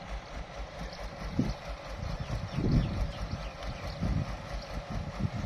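A roughly thirty-year-old Kobelco SK200-1 excavator runs with a smooth, soft low diesel rumble while digging soil and loading a dump truck, with rhythmic thumps and surges in the low end, fairly close.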